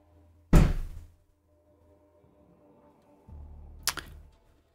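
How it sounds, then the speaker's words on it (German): Doors slam shut in the wind inside a Rainbow Six Siege match on PC: two sharp, loud bangs a few seconds apart over a low in-game background rumble. "Die Türen knallen."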